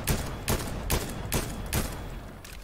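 Gunfire in Fortnite rings out as five sharp, evenly spaced shots about every 0.4 seconds, loud and close, with a softer burst trailing at the end.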